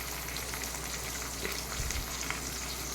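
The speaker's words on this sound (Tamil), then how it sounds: "அதுக்கப்புறம் தக்காளி சேர்த்துக்கிறேன்." Tomatoes go into browned onions frying in oil for a Tamil fish curry, giving a soft, even sizzle with a few light crackles, fairly quiet and continuous, no talking.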